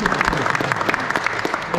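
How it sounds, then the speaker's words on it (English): A crowd claps at the results announcement after a karting race at Raceworld Exeter, a short burst of brisk, dense applause from a small group nearby. "Big round of applause as I read out the names again."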